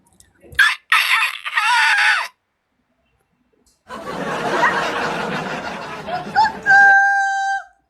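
A person imitates a rooster crowing, two bursts of loud vocal cock-a-doodle-doo separated by a pause, the second ending in sustained whistly tones.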